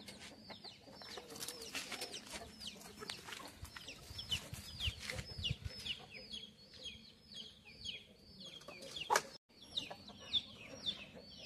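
Hens of a rare breed cluck and squawk on a farm, a busy overlapping chorus of short calls and rising cries, fairly close, with a few louder outbursts toward the end.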